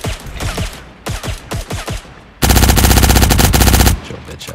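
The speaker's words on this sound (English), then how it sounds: "That was 40 bullets in like 2 seconds." Gunfire rips through a Matrix-themed video game: scattered single shots first, then a dense, loud burst of rapid automatic fire for about one and a half seconds before it cuts off.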